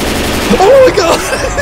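Gunfire rattles in a Left 4 Dead 2 survival match on The Atrium map, a dense burst of shots packed together under panicked shouting from players, loud and close throughout.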